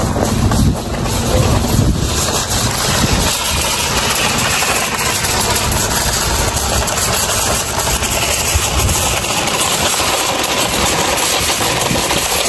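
Strong wind rushes and buffets outdoors on a sunny but cold Canadian day, a loud continuous roar lasting throughout with no voices.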